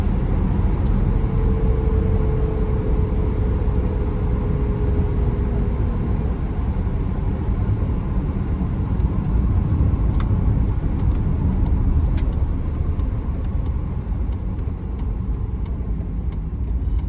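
A 1982 BMW E21 320 two-door with a three-speed automatic gearbox drives along the road, giving a steady engine and road rumble from inside the car, with faint clicks toward the end.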